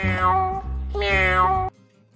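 A cat at a cat cafe in Japan gives two close, loud meows in quick succession, the second longer and higher, then stops abruptly into near silence.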